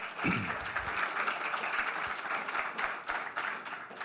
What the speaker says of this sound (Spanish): Bueno, denle ese aplauso al Señor.